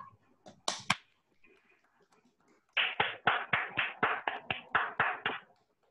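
Children clap for correct answers in an online kids' club session, an opening burst of a few sharp claps followed by a steady run of about a dozen loud, evenly spaced claps that end abruptly.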